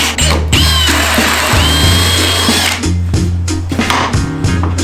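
A power drill bores larger holes through plywood for a shotski, whining loudly in several close bursts that start, bog down and stop in an uneven rhythm.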